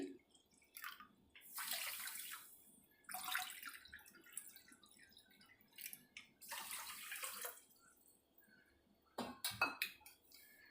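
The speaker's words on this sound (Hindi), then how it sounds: "तो 2 कटोरी चीनी लिया है, तो 2 कटोरी पानी भी लूँगी।" Water poured from a bowl into a pan in a home kitchen for sugar syrup for gulab jamun, in several separate splashing pours with quiet gaps between, fairly close.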